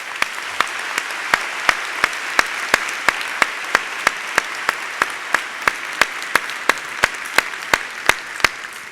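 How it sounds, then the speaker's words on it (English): An alumni reunion audience applauds its panelists with a sustained, even round of clapping. One loud, sharp clap repeats at a steady quick beat above the crowd's dense wash for several seconds. "A warm round of applause to all of them."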